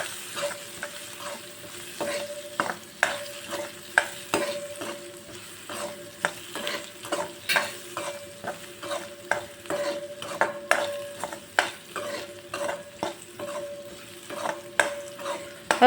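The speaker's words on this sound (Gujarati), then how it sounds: "હવે આપણે ગાજરને કૂક કરી લઈશું" Carrots seasoned with salt cook in a pan, sizzling steadily while a spoon stirs and scrapes in regular strokes, close and clear with no talking.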